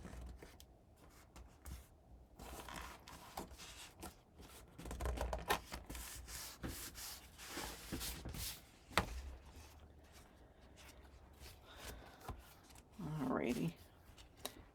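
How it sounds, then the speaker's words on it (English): Paper being folded and burnished by hand for a mini album: close, soft crinkles, rubs and sharp scraping strokes in irregular bursts, with quiet pauses between them and a brief louder rustle near the end. "And then I'll fold and burnish."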